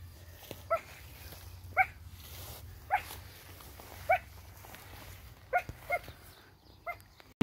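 A dog barks in single spaced woofs, about seven over several seconds, moderately near against a low steady background hum with no talk.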